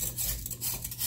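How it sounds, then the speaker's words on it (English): A knife lightly scrapes the skin off a moringa drumstick, giving a soft, close, continuous rasping with slight rhythmic strokes, faint and without talk. "very lightly you need to scrape it. So I'm going to scrape all of the drumstick"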